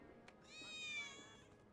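A cat meows in the Final Fantasy 7 Remake video game, a single clear, drawn-out mew rising and falling, heard alone and fairly close.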